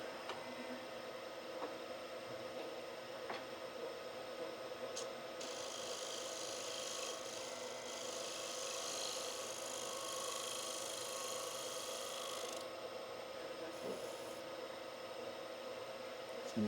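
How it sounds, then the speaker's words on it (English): A shear scraper cleans up a wooden hollow form on a lathe, a steady, close, continuous whirring scrape with brighter hissing stretches where the tool bites harder, with no talk. "this is just a little bit of kind of shear scrape to clean this up a little bit."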